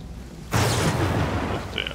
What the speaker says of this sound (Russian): Прямо передо мной ударило. Блин, мне интересно, молния в меня когда-нибудь попадет?